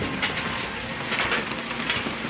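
Rain falling on a wet morning outdoors, a steady soft hiss of drops on surfaces, fairly faint and continuous with no talk.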